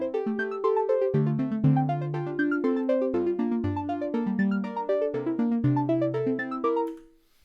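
Synthesizer patch driven by chained arpeggiators, playing a tuneful pattern of overlapping plucked and sustained notes in a shifting rhythm, clean and alone before fading out at the end.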